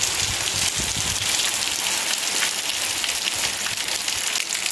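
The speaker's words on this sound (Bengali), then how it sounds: "এই দেখো বৃষ্টির পরিমাণটা আরো বাড়ছে।" Steady rain pours on a village morning, a dense, even patter of drops on surfaces that stays close and loud throughout, with no voices.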